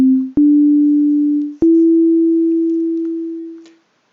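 A pure, sine-like synthesizer oscillator plays three clean notes in sequence, each starting with a sharp click. The pitch steps up slightly from note to note, and the final tone fades out gradually to silence.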